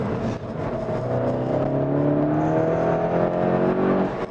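Skoda Octavia RS 245 TFSI, front-wheel drive, pulling uphill in second gear with the front wheels spinning: the engine revs climb steadily with a rising whir, close and continuous, and no voices.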